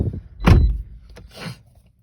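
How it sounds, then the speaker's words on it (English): The door of a 2019 Toyota Corolla LE shuts with one solid thunk close to the mic, followed by a couple of lighter latch clicks and rattles. "We'll go ahead and close the door."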